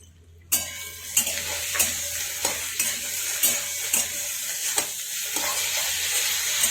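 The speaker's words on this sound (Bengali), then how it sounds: "এবার দিয়ে দেব বেটে রাখা মশলাটা" A ground paste of chili, mustard and poppy seed hits a hot pan and fries with a loud close sizzle, broken by regular spatula scrapes and taps roughly every half second, no voices.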